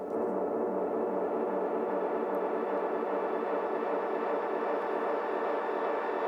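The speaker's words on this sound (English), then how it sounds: "Throw a little shimmer in there with the pitch reverb up." A continuous shimmering wash of shimmer pitch reverb on a delay pedal hangs steadily, bright and dense with a soft pulsing texture, holding at an even level with no voices.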